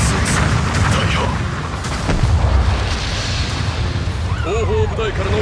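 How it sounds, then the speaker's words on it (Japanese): Heavy artillery bombardment in the mecha game Gundam Battle Operation 2, deep booms and rumbling blasts rolling over one another amid battle noise, with a voice speaking over the barrage. "後方部隊からの砲撃が始まった。"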